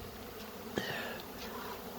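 Honey bees robbing a hive make a faint, steady buzzing hum with one brief nearer buzz as a bee passes, and no one speaks.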